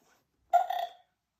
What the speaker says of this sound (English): Burps Peppa.